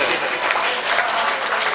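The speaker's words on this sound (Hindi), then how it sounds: "एक बार पुरजोर तालियां बजा के इस्तकबाल करें" An audience at a mushaira poetry gathering in Deoband applauds warmly, a dense continuous wash of clapping throughout, with a hint of voices underneath.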